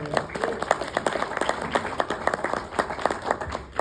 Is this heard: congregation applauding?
yes